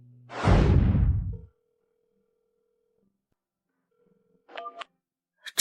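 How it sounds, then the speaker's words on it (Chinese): An unanswered phone call rings out: a brief whoosh, then repeated steady ringback tones with a silent gap between them, ending in a few short electronic beeps, all fairly faint and without speech. "这小子怎么不接电话呀？"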